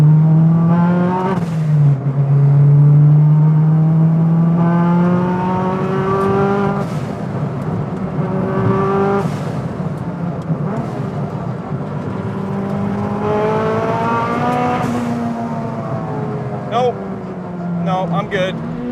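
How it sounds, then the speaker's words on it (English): A street-legal big-turbo Honda Civic hatch revs hard on the road in loud, repeated rising sweeps that drop back between pulls, with voices talking over the engine. "This might be the most frightening turbo Civic I've ever driven in my life."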